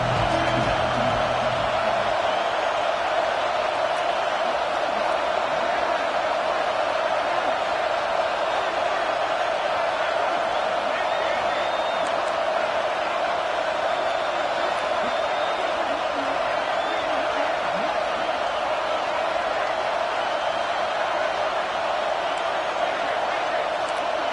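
Loud, sustained roar of a stadium crowd at an American football game, a dense steady wash of noise with occasional whoops, rising as the home fans try to force a false start.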